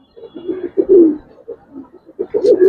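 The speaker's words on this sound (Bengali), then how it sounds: "এটা একটা নর কবুতর ভাই।" Caged male Giribaz pigeons coo close by in a series of soft, throaty bursts with short gaps, loud and without talk.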